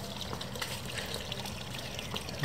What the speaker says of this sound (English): the found object fountain, which is the smashed water can that got crushed last weekend